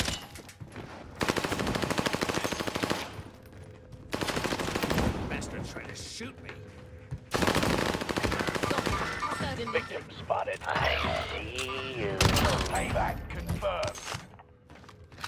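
Dense gunfire from a video game shooter match: rapid bursts of automatic weapon fire and single shots, loud and close, repeating in clusters with brief pauses, mixed with mechanical clicks and game effects.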